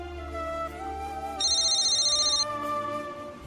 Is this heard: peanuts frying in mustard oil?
no